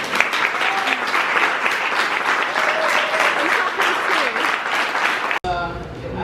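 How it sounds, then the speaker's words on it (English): Audience applause at a talk, dense and sustained clapping from a crowd with voices mixed in, then an abrupt cut to quieter sound near the end. "Así que este aplauso es para todos."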